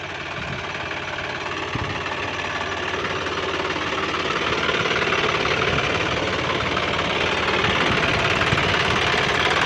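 A John Deere 5065E tractor engine runs steadily at idle, a loud, continuous rumble with a knocking diesel texture that holds even throughout, with no talk over it.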